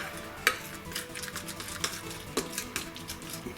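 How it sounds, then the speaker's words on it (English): A spoon stirring a sticky homemade cotton candy bubble gum mixture in a bowl, with repeated scraping and clicking strokes at an uneven rhythm, close and fairly quiet, no talk. "Alright, let's give it a stir and see if it's ready."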